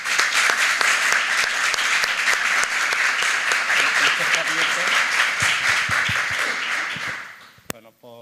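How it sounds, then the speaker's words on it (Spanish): Warm, sustained applause from a lecture audience welcoming a speaker, dense and steady before tapering off, with faint voices underneath near the end. "quiero que ahora le demos un cálido aplauso al maestro Jesús Cerro"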